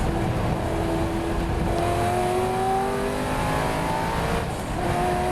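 A race car running a race lap at Spa carries a steady, loud engine drone throughout, with gear pitch sweeping up under acceleration and no talk over it.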